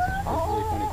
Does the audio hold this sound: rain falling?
no